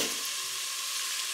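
Finely chopped meat fries in a pan, giving a continuous bright sizzle that stays loud and close and steady with no voices.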